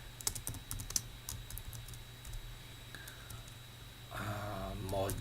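Rapid keystrokes on a computer keyboard while git commands are entered, a quick uneven run of close, light clicks over a steady electronic whine and low hum, with a brief murmur of voice near the end.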